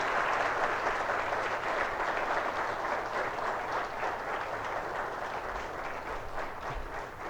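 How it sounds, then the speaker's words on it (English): Steady applause from an audience at a book launch, a continuous wash of many hands clapping at moderate distance with no pauses. "Give a big round of applause to the book."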